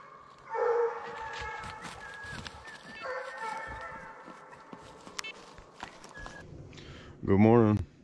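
A hunting dog barks in a few loud, close bursts, one early and one near the end, between footsteps and rustling outdoors.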